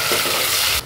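Garlic frying in hot oil for a tempering with mustard seeds, a dense, loud sizzle close up that cuts off sharply at the end.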